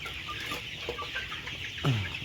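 Black-coloured broiler chickens, 38 days old and averaging about two kilograms, cluck softly and repeatedly on a poultry farm against a dense background din, with one louder, closer cluck near the end.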